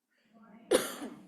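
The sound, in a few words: coughing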